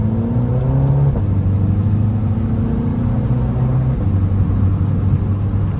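Turbocharged BMW four-cylinder in a 2024 MINI Cooper S Convertible accelerating through gears, a loud steady engine hum rising in pitch with brief shift dips, heard from inside the car.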